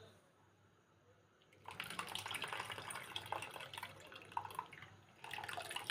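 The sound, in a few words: vegetables being rinsed in water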